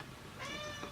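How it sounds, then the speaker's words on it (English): A pet cat meows for its dinner, one clear meow near the start followed by a shorter, fainter second call, close to the listener in a quiet room. "I got a cat trying to tell me that it's dinner time."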